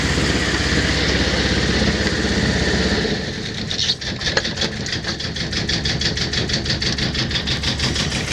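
A small diesel engine on a Tartan 27 sailboat idles with a steady, close rumbling drone, shifting slightly in tone partway through as a faster, pulsing chug takes over, with no talking.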